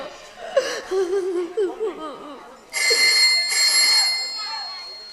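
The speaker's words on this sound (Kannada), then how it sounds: "ಯಾರ್ದು ಫೋನ್ ಬೇರೆ ರಿಂಗ್ ಆಗ್ತದೆ" A telephone rings during a Kannada stage drama: a loud, steady electronic ring starts midway and continues for over two seconds, following emotional vocal sounds.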